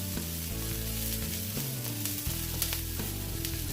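About six garlic cloves frying in olive oil make a steady, crackling sizzle, with a low tonal hum underneath that shifts in pitch a few times. No voices are heard.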